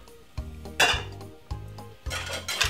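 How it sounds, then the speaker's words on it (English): Unsalted butter is weighed out for a sponge cake in a kitchen, with four or five close metallic clinks and knocks of a utensil against a bowl at an uneven rhythm. "now I'm weighing out 4 ounces of unsalted butter which is good to use"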